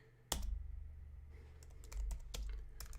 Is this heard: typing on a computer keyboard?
yes